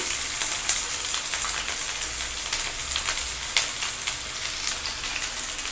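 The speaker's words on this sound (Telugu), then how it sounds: "ఈ ఉల్లిపాయ ముక్కలు బాగా వేగాలి." Chopped onion pieces frying in hot oil for Maggi masala, a steady close sizzle with scattered crackles and pops throughout, no voices.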